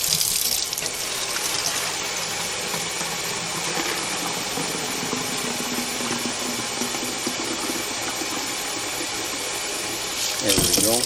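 Tap water runs steadily into a container with a little Dawn dish soap, a continuous loud gushing hiss that lasts throughout, with a brief splash near the end.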